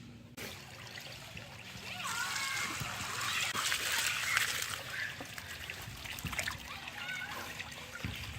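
Water splashes and trickles as koi are released into a backyard pond, a moderate, close splashing that swells in the middle and settles into lighter dribbling.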